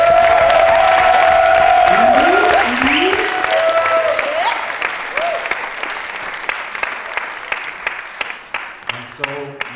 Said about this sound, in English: So please give a round of applause for this panel right here.